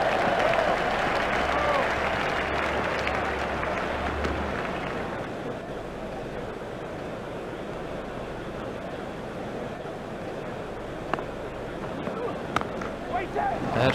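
Crowd applause at a cricket match in the video game EA Cricket 2002, a steady, continuous wash of clapping from a large stadium crowd that fades slightly, with a commentator talking over it.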